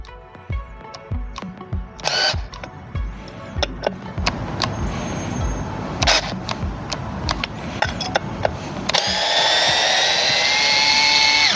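Ryobi 4V cordless electric screwdriver struggling to back out a screw, with irregular clicks and bursts of motor whine, then a steady higher-pitched motor run over the last few seconds.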